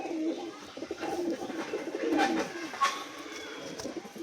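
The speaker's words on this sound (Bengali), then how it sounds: "পায়রাটা খুবই ছোট্ট পায়রা" A small Madras pigeon coos softly and close by in a few short, scattered calls over a quiet background.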